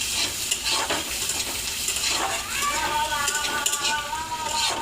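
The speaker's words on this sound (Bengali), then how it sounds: "এটার মধ্যেই আমি একটু পেঁয়াজ দিয়ে দেবো।" Onions sizzle steadily in butter while being stirred, a continuous close-up frying hiss with occasional scraping.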